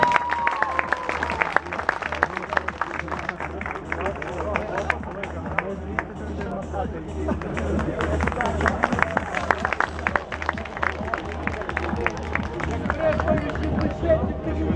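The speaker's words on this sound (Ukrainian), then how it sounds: "Привітаємо її оплесками." Crowd applause greeting a team walking onto the field at the opening ceremony of the ELECTRON OPEN tournament, a sustained steady wash of clapping under a murmur of voices.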